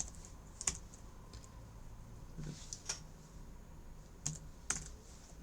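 A new computer keyboard is typed on with a handful of sparse, crisp key clicks spread irregularly over a quiet room, close and fairly faint, with no talk.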